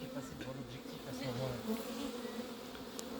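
Honey bees from a swarm dropped while being collected into a cardboard box buzz steadily and fairly close, a dense continuous hum with no talking.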